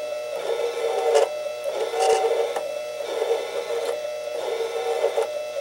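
A 7x10 Harbor Freight mini lathe turns down a bent 304 stainless steel bolt, giving a steady whirring cut with a humming motor tone and recurring scraping swells roughly every second as the tool passes, close and alone without talk.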